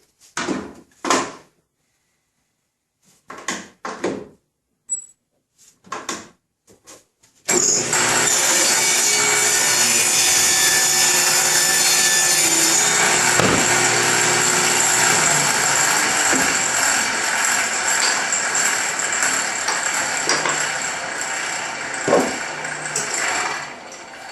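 Table saw cutting wood stock on a jointing jig: a few short knocks and handling clunks, then the blade spins up and runs loud and steady for about sixteen seconds as the board is shaved, close by with no talking.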